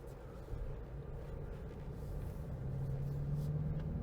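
A 2025 Dodge Charger EV driving quietly in auto mode, heard from inside as a low, soft road rumble with a faint steady hum that grows slightly louder toward the end.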